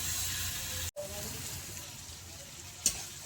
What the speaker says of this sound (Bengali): চিকেনটা দিয়ে একটুখানি আমি শুধু এরকম জাস্ট একটু নেড়ে চেড়ে নেব